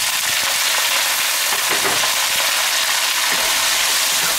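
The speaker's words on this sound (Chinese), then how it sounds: "快速翻炒。" Diced potatoes hit hot fat with pork, garlic and bean paste in a wok, giving a loud, dense, unbroken sizzle with faint scraping of the spatula tossing them, close up and without talk.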